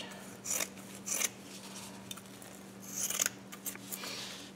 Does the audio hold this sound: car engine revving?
no